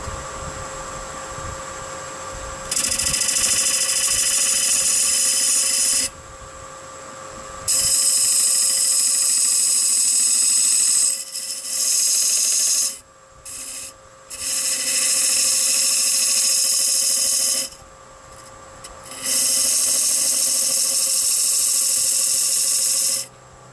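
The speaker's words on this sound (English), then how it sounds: "So I'm going to cut a tenon down into the cap, and it's going to be a little bit over an 1/8 inch wide and an 1/8 inch deep" A straight chisel cuts a tenon into a maple cap turning on a lathe, giving a bright, loud scraping hiss in long sustained stretches broken by brief pauses, close up and without speech.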